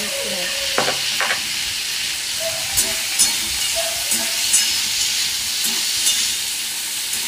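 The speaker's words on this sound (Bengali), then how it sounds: "পাকা পেঁপেটা রান্না করছি আদা জিরে দিয়ে" Ripe papaya cooking with ginger and cumin in a pan, giving a loud continuous sizzle and hiss with occasional small scrapes and clinks of stirring throughout.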